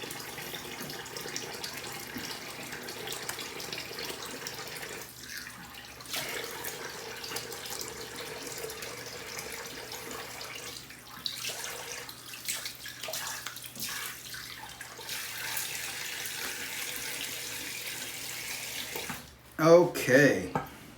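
Tap water runs steadily into a sink as a face is rinsed after a two-pass shave with a Shark safety razor, with brief pauses and a louder splash near the end.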